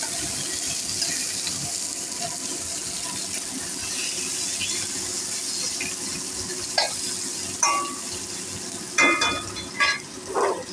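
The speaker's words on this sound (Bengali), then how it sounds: "আমটাকে এরকম করে একটু ভেজে নিলাম।" Raw mango pieces frying in a pan for a thin spicy green-mango curry, a steady soft sizzle throughout with a few sharper spatula scrapes and clicks toward the end, no voices.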